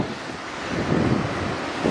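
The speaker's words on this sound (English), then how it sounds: "We're at the beach, and there is better waves than there were yesterday" Waves break on a beach while wind buffets the microphone, producing a continuous broadband roar that swells slightly. No voices are heard over it.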